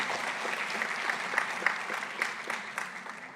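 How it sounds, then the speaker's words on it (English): A convocation audience at IIT Hyderabad gives a big round of applause, steady clapping with a few sharper individual claps standing out, moderately loud and continuous throughout. "Give a big round of applause"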